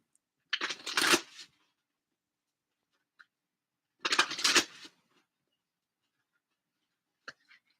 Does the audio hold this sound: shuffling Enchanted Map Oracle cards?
yes